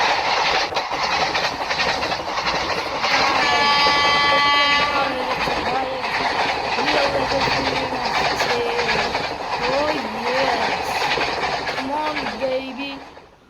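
A superfast express train rushes through a level crossing in a railway simulator game, wheels clattering steadily, a long horn blast sounding partway through, and a voice talking over the passing rumble.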